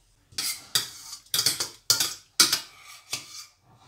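Aloo keema being dished out of a kadai with a spoon: about seven sharp metallic scrapes and clinks at irregular intervals, close and moderately loud, with no talking.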